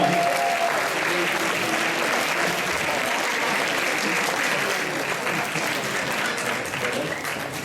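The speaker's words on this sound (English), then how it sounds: "Let's give them a round of applause as they go back, please." Sustained applause fills a school hall during a Year 11 leavers assembly. Many pupils clap steadily and fairly loudly for the whole stretch, with faint crowd murmur underneath.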